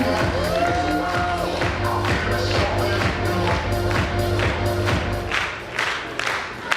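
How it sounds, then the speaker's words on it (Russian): An audience at a KVN comedy cup final applauds the teams with sustained, dense clapping and crowd noise. Steady music with a clear beat plays alongside the applause, and the claps grow sharper and more scattered toward the end. "Еще раз громкие аплодисменты командам, они большие молодцы"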